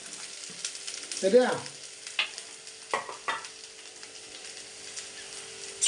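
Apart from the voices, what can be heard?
frying onion and garlic in hot oil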